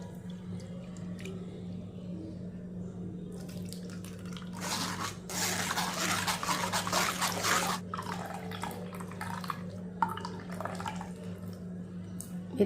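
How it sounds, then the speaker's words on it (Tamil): Water poured in a light trickle into a blender of chopped banana stem with buttermilk, mint, coriander and ginger, a soft splashing burst in the middle over a steady low hum, fairly close. "லைட்டாக கொஞ்சமாக தண்ணி ஊற்றிக்கிடுவோம்."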